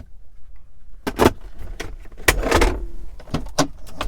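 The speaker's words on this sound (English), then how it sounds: "And a large glove box with the owner's manual inside." Glove box of a 2014 Buick Enclave opening and closing inside the cabin, a series of close plastic clicks, latch snaps and soft thumps over about three seconds with no talking.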